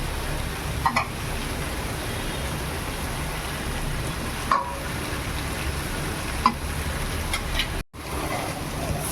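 Hot water pours into a pan of taro curry already sizzling on a gas stove, a steady dense hiss and bubbling that runs continuously with a few small clinks and a brief gap near the end.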